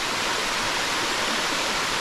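A waterfall on a short hiking trail pours in a steady, dense rush of white noise, close and even throughout, with no voices.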